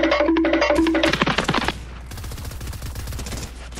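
A video game gun fires in a rapid burst of close, loud shots over tonal game sounds, then a softer run of crackling shots.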